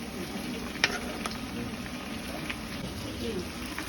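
Garlic, ginger and chili paste frying in a pan for a jackfruit and shrimp curry, giving a steady soft sizzle with a few sharper crackles and pops, close and continuous.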